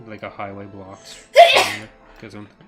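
A single loud sneeze bursts out between stretches of someone talking during a live modding stream, sharp and close, with speech resuming right after.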